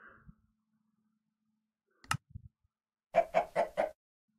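Chicken in the Minecraft Stoneblock modpack: a short burst of four quick, evenly spaced clucks near the end, preceded by a brief click and a soft low blip, with quiet gaps between.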